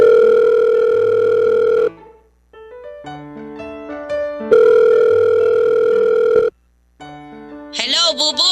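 A telephone dial tone sounds steadily, breaks off into a series of tones, then returns before a ringing or warbling signal at the end.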